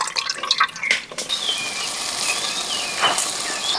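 Tamarind soaked in water is strained for a clay pot fish curry, with liquid trickling and splashing unevenly nearby in short pours and drips.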